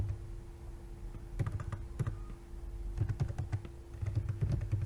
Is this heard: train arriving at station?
no